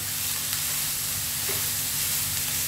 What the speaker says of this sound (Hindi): तीन से चार मिनट हाई फ्लेम पर हमने प्याज को चलाते हुए पकाया है